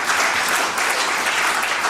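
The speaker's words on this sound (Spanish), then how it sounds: "Denle un aplauso a Él porque Él vive para siempre." A church congregation claps together in a dense, steady wash of applause that fills the whole room and stays even throughout, with no voices standing out.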